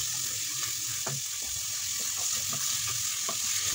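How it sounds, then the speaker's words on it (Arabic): Two chopped onions sizzle in heated oil while being stirred, for a Moroccan layered flatbread filling: a constant close hiss with soft scraping strokes and light knocks of the utensil recurring through it, no talking. "وغادي نضيف عليها جوج بصلات مشلضين، وغادي نخلط مزيان"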